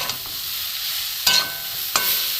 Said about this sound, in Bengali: একটু ভালো করে এর সাথে একদম ভালো করে ভেজে নেবো ডাঁটার সাথে।